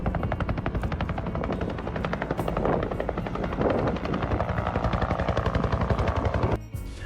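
A helicopter flies above a wild hog hunt in Texas fields, its rotor a steady, loud, fast chopping that runs through the whole stretch before a brief break near the end.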